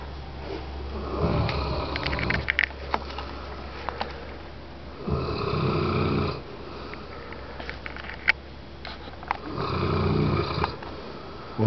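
A St. Bernard snores nearby in slow, regular cycles, three long raspy breaths with quiet pauses and faint snuffles between them.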